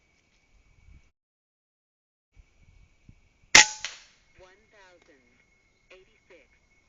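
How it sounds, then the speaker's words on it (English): A single sharp air rifle shot from a .31-calibre Approximator slug striking a can of tomato sauce, one loud close crack with a brief splattering tail, followed by a few quiet thuds and faint bird chirps. "And we'll shoot this can of tomato sauce."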